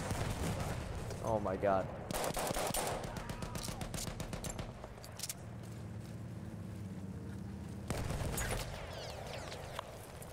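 Gunfire and grenade explosions in the video game Battlefield 1, with rapid machine-gun bursts and heavy blasts throughout and a rumbling engine underneath. A man exclaims briefly over the noise.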